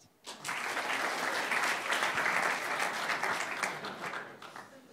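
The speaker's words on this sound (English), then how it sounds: "And two more clapping." A conference crowd at an EU youth event's official opening breaks into applause, the sound rising sharply after a brief quiet start and then sustaining as a dense, steady patter before easing slightly at the end.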